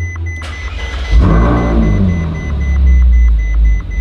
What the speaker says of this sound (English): It's a slightly less violent roar when it starts up.